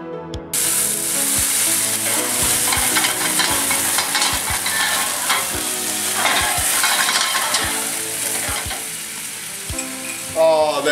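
Mushrooms and a splash of brandy sizzle and spit loudly in a hot sauté pan for Chicken Diane, a steady, close frying hiss that runs unbroken from start to finish with no talking.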